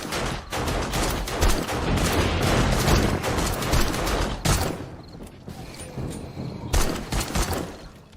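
Sustained gunfire in the zombie survival game 7 Days to Die, a dense, loud fusillade of rapid shots running almost continuously, with brief gaps and renewed bursts toward the end.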